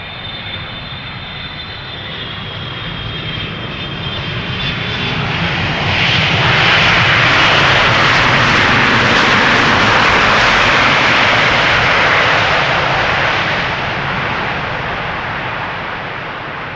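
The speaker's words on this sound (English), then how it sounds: "KLM flight 682, arriving from Vancouver, Canada, 777-300ER" A KLM Boeing 777-300ER airliner arriving from Vancouver, Canada, approaches and passes, its engine roar building to a loud broad rush at the peak and then easing slightly, heard alone without talk.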